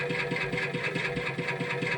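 A homemade electric tractor runs with a broken flexible coupling between motor and drive, giving a quiet, fast, regular knocking rattle over a steady mechanical hum, with no voices.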